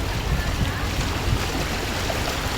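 Strong floodwater rushes in a steady, loud, broadband roar that fills the whole stretch, with a faint voice in the background.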